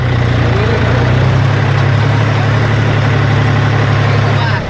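A tractor engine idles steadily at close range, a deep continuous drone with a low rumbling hum that holds constant from start to finish with no revving.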